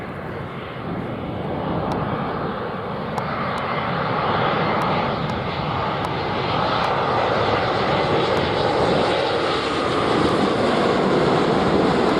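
Heavy airliner jet engines at Montego Bay airport, Jamaica, a steady loud broadband roar that swells slowly and holds throughout, with faint higher whines over the top and no talking.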